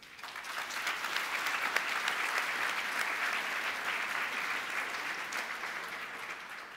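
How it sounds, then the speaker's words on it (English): A crowd at a conversation event applauds in a thick, sustained wave of clapping that swells early, stays level, then eases slightly toward the end, with no speech over it. "This applause is one of the reasons why I love AJC."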